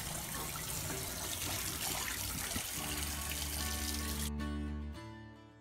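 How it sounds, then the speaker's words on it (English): A strong, steady hiss of water spraying in all directions from a hydroponic fogponics sprayer fills the clip, then cuts off abruptly near the end, leaving a faint hum. "The spray is too strong. It sprays up and down and all 360 degrees."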